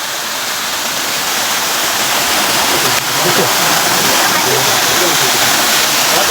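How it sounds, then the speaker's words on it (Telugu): Rushing waterfall roars in a steady, dense wash of falling water, loud and close throughout with no pause. "ఇదైతే సెకండ్ వాటర్ ఫాల్స్ అండి."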